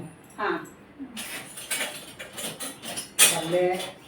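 A metal spoon scooping and clinking against a pot and dishes while mint rice is cooked, scattered light scrapes and taps with a sharp clink near the end, under occasional talk.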